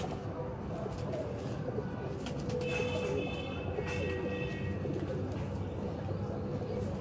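Pigeons at a breeder's loft give soft, low coos and faint calls against a steady background hum, with a brief higher chirping tone in the middle.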